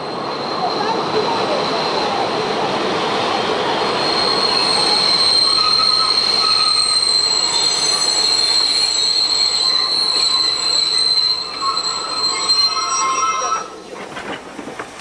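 A steam-hauled local passenger train behind class 50 locomotive 050-630 rolls into Freudenstadt station, with steady loud rumble, high-pitched wheel squeal and hiss throughout, fading near the end.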